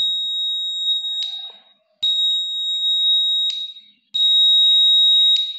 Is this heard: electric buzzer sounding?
yes